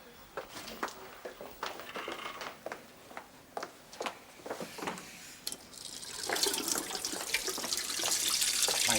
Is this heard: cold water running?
yes